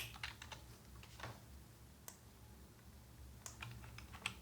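Quiet typing on a computer keyboard while entering text for a web page link: a few quick bursts of key clicks separated by short pauses, close up and soft.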